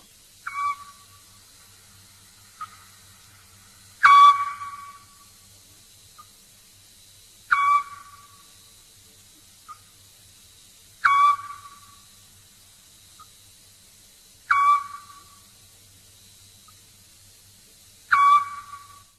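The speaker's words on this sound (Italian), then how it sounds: "Assiolo." A Eurasian scops owl repeats a single clear whistled note, six evenly spaced calls roughly every three and a half seconds, fairly close and alone over a faint low hum.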